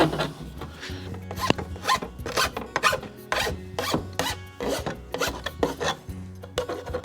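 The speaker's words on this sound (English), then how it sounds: "when you get done filing, there isn't much white there to even worry about" Hand file rasping back and forth over the cut steel edge of a truck herd bumper, a rapid series of close, gritty strokes in an uneven rhythm with no talk.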